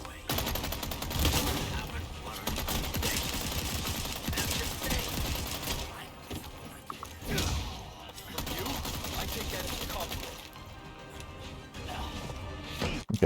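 Enemy gunfire in the Resident Evil 4 Remake, sustained bursts of shots and impacts crashing almost continuously across the clip, loud and dense with brief lulls, over game music and sound effects.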